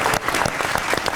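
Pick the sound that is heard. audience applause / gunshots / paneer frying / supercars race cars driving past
audience applause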